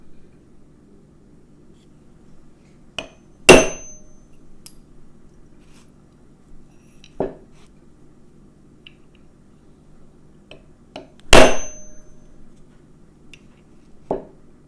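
Sharp metallic taps knocking a small dowel out of a vintage Porsche 911 Targa part on a kitchen table: a few isolated strikes spread over quiet gaps, two of them loud and ringing.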